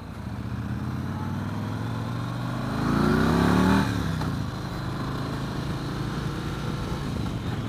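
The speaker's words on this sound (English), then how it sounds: "It's got a real nice rumble through the seat, through the frame when you rev it up a bit." Motorcycle engine at a 2014 AIMExpo demo ride, a steady mid-pitched rumble throughout that swells into a brief rev around the middle before settling back to a constant drone.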